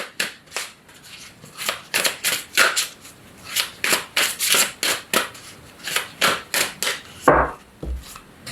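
Chakra oracle cards being shuffled by hand, a series of crisp riffling bursts in an irregular rhythm, close and fairly loud, with no talking.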